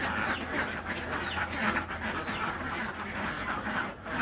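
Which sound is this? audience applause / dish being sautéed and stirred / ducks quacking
ducks quacking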